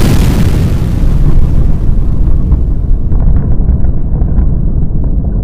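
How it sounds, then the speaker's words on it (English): A loud, sustained explosion roars and rumbles with heavy low-end boom, then slowly fades into a lingering rumble. "Where's the explosion button?"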